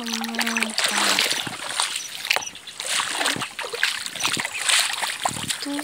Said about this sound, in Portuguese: E aqui agora estamos passando no meio de um avalanche d'água.